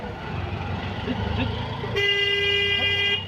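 Busy road traffic on the way to Hazratpur Haat, with CNG auto-rickshaws and other vehicles rumbling past and a long sustained horn blast in the second half, the engines forming a steady near wash underneath.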